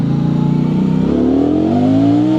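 A KOVE 625V Lancer cruiser motorcycle engine hums steadily while being ridden in first gear, its tone rising gradually as it picks up revs, loud and close.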